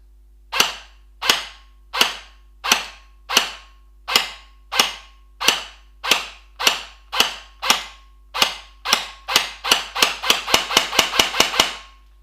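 Airsoft SCAR rifle fitted with a Lonex gearbox fires over a chronograph: a string of sharp, loud single shots spaced evenly, then speeding into a rapid burst at the end, with no voices.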